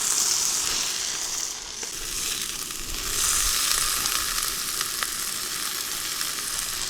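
Food sizzles steadily in a pan over a campfire, a continuous close crackling hiss with occasional sharper pops and no talking.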